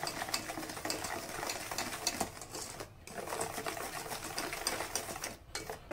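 An electric mixer steadily beats banana cake batter as milk is added, a continuous close whirring buzz that holds for several seconds with only brief dips.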